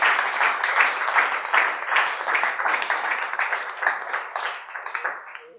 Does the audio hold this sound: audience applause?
yes